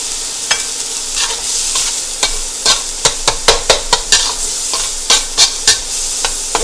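Garlic and onion fry in butter in a pan, a loud steady sizzle broken by a run of sharp scraping stirs that come faster toward the end, with no talk.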